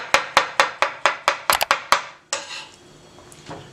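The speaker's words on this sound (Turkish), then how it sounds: "Avokadolarımızı doğruyoruz bir miktar" A knife chops avocados on a cutting board for a Mexican burrito filling, making about a dozen quick, evenly spaced knocks up close, then a few looser taps before it goes quiet.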